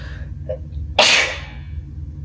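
A single sharp sneeze bursts out close and loud, following a moment of quiet breathing in a calm indoor setting.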